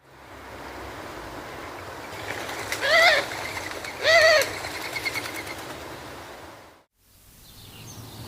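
A Eurasian collared-dove gives two brief harsh calls in flight, each roughly a second apart, over a steady wash of surf-like noise with faint wing whistling, before the sound cuts out and resumes quietly.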